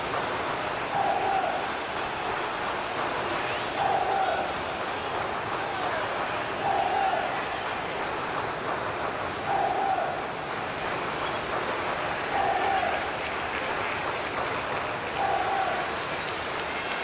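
Roaring stadium crowd cheering in a PES football video game simulation of a World Cup quarter final, a steady dense wall of noise that swells in repeated waves, with no talk over it.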